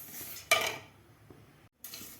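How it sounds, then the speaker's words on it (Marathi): Sesame seeds tipped into a kadhai for dry roasting make a sudden loud rattling rush of seeds against the metal pan, then quieter scraping and stirring, a brief silence, and another burst of clatter. "इथे एक कढई ठेवलेली आहे, या कढईमध्ये आपल्याला हे तीळ भाजून घ्यायचे आहेत।"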